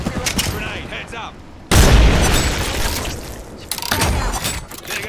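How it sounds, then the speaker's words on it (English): A grenade bursts in the video game Apex Legends with a sudden loud blast that decays slowly, set between bursts of gunfire and game noise before and after. "Grenade, heads up."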